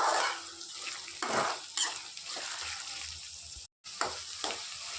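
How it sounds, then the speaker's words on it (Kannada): Beetroot egg bhurji stirred with salt in a pan, giving a soft sizzle under scraping spatula strokes and light clinks of metal, close and uneven with a brief drop to silence, no talk. "ಉಪ್ಪು ಹಾಕಿ ಫುಲ್ಲು ಮಿಕ್ಸ್ ಮಾಡ್ಕೊಳ್ತೀನಿ."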